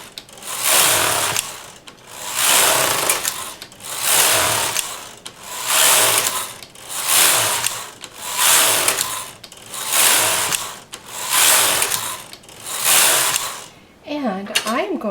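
A domestic knitting machine carriage is pushed back and forth across the needle bed, knitting rows of 1x1 ribbing. It makes steady rhythmic mechanical rattling sweeps, about one every two seconds, loud and close, with no talk.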